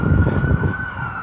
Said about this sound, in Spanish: tiene que sonar un coche de policía, ambulancia o bomberos cada 2 minutos